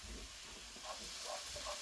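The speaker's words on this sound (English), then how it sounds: "so it's sizzling away nicely there. And that is just our mirepoix or sofrito, cooking in olive oil." Mirepoix, or sofrito, sizzling in olive oil in a pan over raised heat, a steady close hiss with faint crackles running through the whole short stretch, with no talking.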